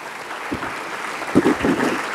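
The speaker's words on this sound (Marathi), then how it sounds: "जोरदार टाळ्या लहाने सरांचा." Applause from a student audience at a motivational speech at an academy, a dense sustained clapping that stays fairly soft and even, with a few louder low thumps near the microphone.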